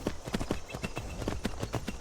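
Hooves pound in a quick, even rhythm as a horse gallops in the video game Skyrim, each beat sharp and close, the clatter fairly quiet and alone with no talk over it.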